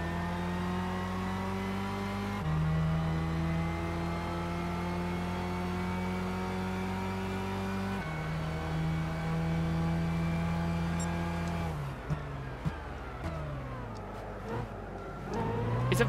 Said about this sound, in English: It's a very weird sounding engine when you're only running on, like, minimal horsepower.